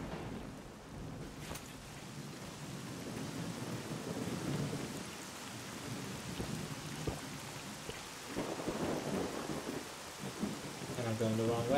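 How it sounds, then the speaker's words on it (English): Steady rain and rolling thunder in the video game S.T.A.L.K.E.R.: Call of Pripyat, a continuous wash of rainfall with low rumbles swelling and fading throughout, with no talking. "And it's raining."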